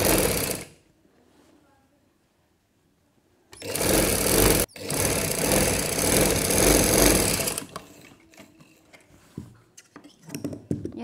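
Sewing machine stitching a baby girl's frock, running in a few loud bursts separated by quieter gaps, close to the microphone.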